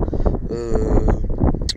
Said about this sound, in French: il y a beaucoup trop de vent